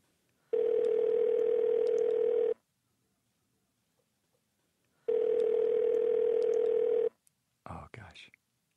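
A telephone dial tone sounds in two steady, loud two-second beeps with a pause between, while a call is being placed, followed by a brief faint voice at the end.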